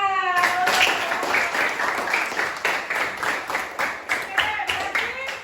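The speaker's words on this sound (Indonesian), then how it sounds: "Tepuk tangan." A classroom group claps in a rhythmic, steady beat after a presentation, close and loud, with a voice speaking at the start before the claps take over.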